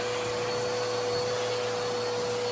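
A vacuum cleaner sucking dust out of a furnace motor housing, a steady, loud, close whooshing roar with a constant motor tone and no pauses.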